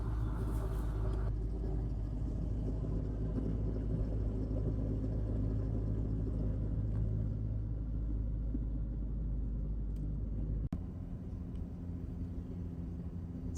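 Steady low engine rumble and road noise from inside a car climbing the Gillies Range Road toward Cairns, continuous and loud throughout with a brief thump near the end.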